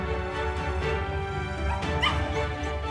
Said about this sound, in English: People had to restrain this agitated dog due to its concern